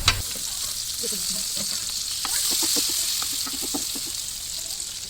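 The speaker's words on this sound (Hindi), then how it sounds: "इतना फ्राई करूँगी जब तक ये अपना ऑयल ना छोड़ दे" Onions fry in oil for dal fry, a continuous close sizzle with scattered small pops and crackles as they are stirred.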